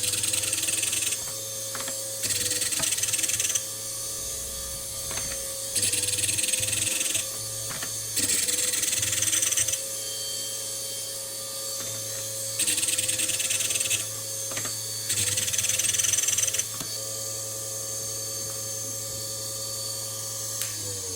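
A small drill-point splitting grinder whines in repeated short bursts of about two seconds each while grinding a drill bit's front and back, separated by lower motor hum, alone without speech.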